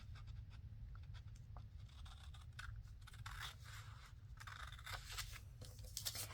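Scissors snip and scrape through paper for an envelope, cutting up to a score line in several close, quiet strokes over a low steady hum.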